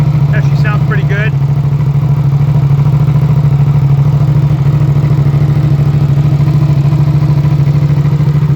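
A Suzuki SV 662cc superbike engine runs at a steady, loud idle close by, a continuous low throb with a few brief high squeaks near the start.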